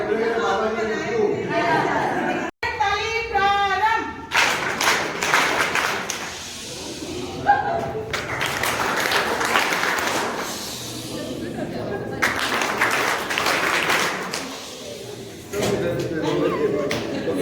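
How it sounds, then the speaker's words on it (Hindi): A group of teachers at a maths training session does a patterned 'aeroplane clap' for the instructor: bursts of rhythmic group clapping broken by pauses, with talk and chatter between them. "तो हम क्या कहते हैं एरोप्लेन ताली मैडम के लिए।"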